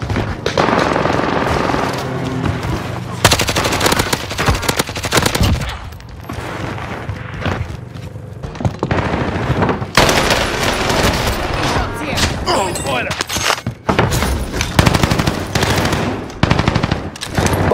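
Gunfire in the Warzone video game: loud, dense machine-gun bursts and rapid shots crackle back and forth at close range, with short pauses between volleys.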